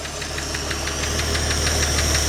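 A 1955 Chevrolet Bel Air engine runs steadily close by, its low rumble carrying a rapid, regular knocking tick throughout, loud and continuous with no voices.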